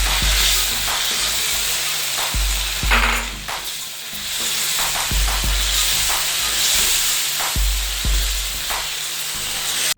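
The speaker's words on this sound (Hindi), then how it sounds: "अब साथ ही हम टमाटर कटा हुआ ये इसके अंदर डाल देंगे इस तरह से।" Chopped tomatoes go into spices frying in a pan for a mixed vegetable pulao, with a steady loud sizzle, a hissing bed of steam and repeated scraping stir strokes throughout.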